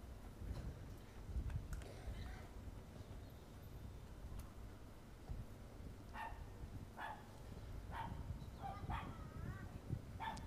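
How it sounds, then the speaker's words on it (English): Small dog yapping in the background at a Remembrance Sunday service at a war memorial, a series of sharp yaps in the latter half, faint and distant amid crowd murmur and talk. "Dog yapping in the background."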